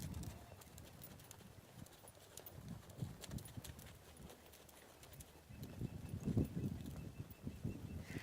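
Horses' hooves clip-clop steadily on the footing of a riding arena as several horses move side by side, a fairly soft, continuous patter that grows a little louder and denser toward the end.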